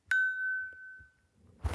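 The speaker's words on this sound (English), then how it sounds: "Email notification." A single bright chime from an iPhone 6s email notification, one clear ringing tone that fades over about a second, followed by faint handling noise.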